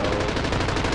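Rapid, continuous gunfire in a video game, a loud, dense burst of closely spaced shots filling the whole second.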